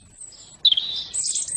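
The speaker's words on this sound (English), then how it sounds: "little warbler" A small warbler chirps in short, high tweets, one sharp burst and then a brighter run of calls, fairly close and clear over quiet background.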